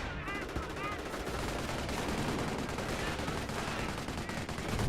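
Dense rapid gunfire and exploding barrage shells rumble through a Company of Heroes battle, a continuous clatter of machine-gun bursts over heavy booming impacts, loud and sustained.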